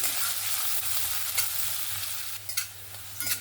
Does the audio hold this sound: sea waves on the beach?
no